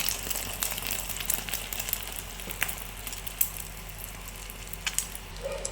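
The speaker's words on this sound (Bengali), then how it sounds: "এখন এগুলোকে আমি সুন্দর করে ভেজে নিব।" Bread slices frying in hot white oil in a pan, a steady soft sizzle and crackle with scattered small pops, fairly faint and continuous, no talking.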